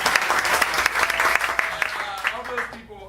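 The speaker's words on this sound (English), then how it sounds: "Clap your hands if this is your first time to the Hideout Theater." Audience at the Hideout Theater, an improv venue, claps in a dense burst of many hands that tapers off near the end, with a voice starting to speak as it fades.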